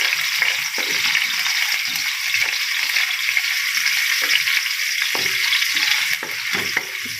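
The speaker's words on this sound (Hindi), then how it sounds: "इनको थोड़ा सा हम ब्राउन करेंगे। इसके साथ हम इसमें ऐड करेंगे प्याज।" Chopped onions frying and browning in a pan for vegetable spaghetti: a close, continuous bubbling sizzle with occasional soft stirring scrapes, with no talking.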